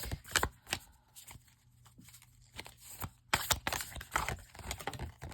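Cards drawn from a pick-a-card oracle deck give off a run of quick, close shuffling and flicking bursts, some sharp and some softer, with short pauses between them and no voice.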